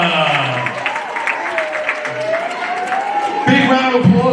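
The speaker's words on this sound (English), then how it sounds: "Big round of applause for all of our second grade winners" An elementary school assembly crowd claps for second grade award winners, a steady broad patter of applause running under an adult voice talking throughout.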